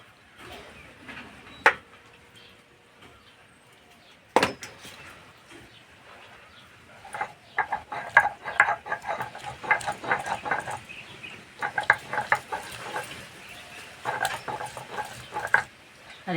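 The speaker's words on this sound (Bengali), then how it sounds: "এবার বেটে নেব" Boiled green tomatoes ground into a paste. A couple of isolated knocks give way to a run of quiet, rhythmic scraping and grinding strokes, close and fairly soft, with no talking.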